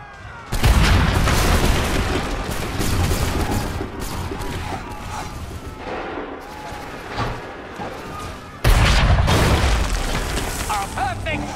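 Battlefield gunfire and cannon shots in Assassin's Creed III at the Battle of Monmouth, a dense loud din of booms and bursts with a fresh heavy blast near the end, voices mixed in.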